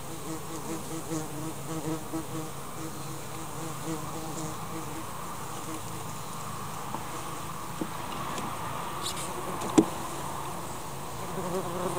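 Dense, steady buzzing of wasps and honeybees close by at an open beehive during a hive inspection, a continuous insect drone with no voices.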